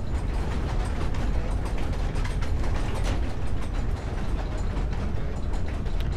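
Continuous grinding and clicking of a noise machine's gears turning in the horror game Amnesia: The Dark Descent, a dense, steady mechanical ratcheting heard alone and fairly loud throughout.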